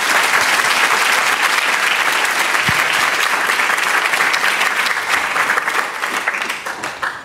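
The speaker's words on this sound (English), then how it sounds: "But round of applause for Dr. Sehgal." A lecture audience gives loud, sustained applause after a talk on sleep and daily timing, dense clapping from a full room that holds steady, then thins slightly near the end.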